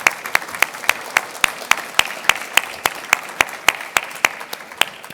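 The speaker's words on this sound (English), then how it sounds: "I think we all get an applause for that" An audience at a service excellence awards event applauds, with many hands clapping and distinct regular claps standing out in a steady rhythm over a softer crowd wash.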